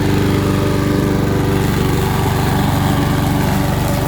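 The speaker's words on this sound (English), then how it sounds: "So if I start her up," A Husqvarna robotic lawn mower fitted with a modified cutting blade from a larger mower runs as a steady, loud, buzzing engine-like whine with a fast rhythmic pulse and no voices.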